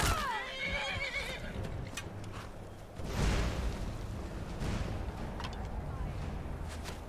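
Horse whinnying in the video game Skyrim, a sharp wavering neigh at the start followed by thuds, impacts and combat noise from a fight with a witch.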